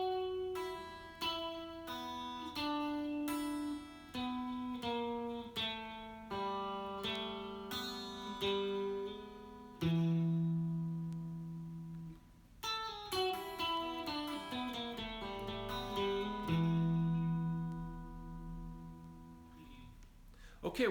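Acoustic-style guitar picking a banjo roll pattern, a steady rolling stream of quick plucked notes with hammer-ons, played through twice with a brief pause between passages, close and clear without speech.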